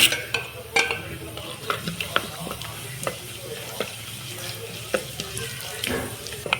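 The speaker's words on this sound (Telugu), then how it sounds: "ఇక రెండు చెంచాల నూనె వేసుకున్నా కొంచెం ఎక్కువ వేసుకుంటాం దీనికి ఇలా ఆవాలు జీలకర్ర మిరపకాయలు వేస్తున్నా" Mustard seeds, cumin and chilies crackle in hot oil, a close, busy sizzle broken by scattered sharp pops and spoon taps throughout; no voices.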